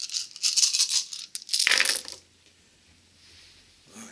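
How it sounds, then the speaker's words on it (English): Nine dice rolled during a Force on Force tabletop wargame clatter in two quick bursts of rattling, fairly close and loud, then settle into quiet. "they get to roll 9 dice in defence"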